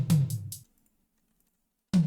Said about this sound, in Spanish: Y también tenemos por acá un sonido de toms,